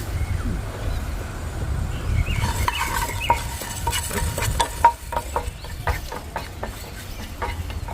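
A spoon scrapes and stirs rice dry-roasting in a pan for homemade sambar powder, producing soft, irregular scratching and clinking strokes over a low background rumble, close and moderately loud.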